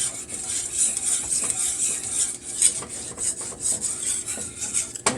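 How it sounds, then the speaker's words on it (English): Gravy seasoned with black pepper is stirred in a pan, with a utensil steadily scraping and rasping against the metal in continuous strokes, close and clear with no talk. "Keep on stirring."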